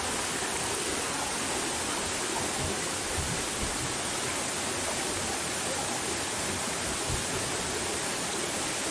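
Steady, dense roar of a waterfall outdoors, a broadband rushing wash that stays constant and fairly loud throughout with no voices over it.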